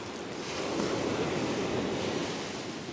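Ocean waves breaking on a beach during a winter fishing session, one loud continuous surge of surf swelling and washing in close by, with some wind noise and no speech.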